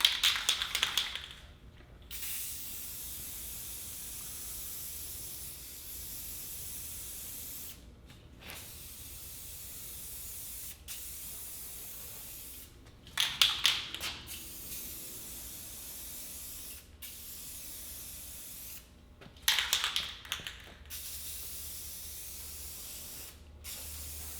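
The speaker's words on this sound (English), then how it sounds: "we wanna start the spray off of the material and come in and make a sweep about 6 inches away from the material at a time" Clear coat finish sprayed onto a coffee table in repeated hissing bursts of several seconds each, separated by brief pauses, steady and close with no talking.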